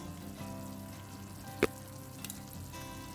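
A pan fries ingredients for a Goan hog plum (ambade) curry. The soft, steady sizzle stays quiet throughout, broken by one sharp click or tap partway through.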